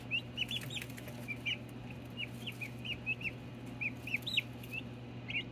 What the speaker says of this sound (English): They're pecking each other.